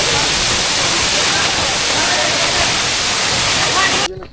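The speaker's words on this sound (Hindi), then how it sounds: "ये है ब्रूटी वाटरफॉल मरगला की पहाड़ों के दामों में वाक़ है।" Bruti Waterfall in the Margalla Hills near Islamabad pours in a dense, steady roar of falling water, loud and close, that cuts off abruptly at the end.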